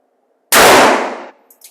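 A single sharp .32 caliber revolver shot fired through a chronograph, a loud close crack with a brief ringing tail and a faint metallic clink after.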